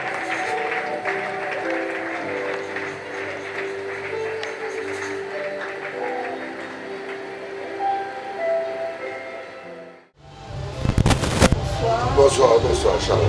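A church congregation breaks into loud applause and cheering to acclaim Jesus, following a stretch of amplified voice and music, with a noisy burst of clapping at the end.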